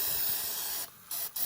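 B12 Chemtool cleaner sprayed from an aerosol can onto the intake valves of a Mazdaspeed 3 engine: a close, steady hiss with two short breaks as the nozzle is released and pressed again.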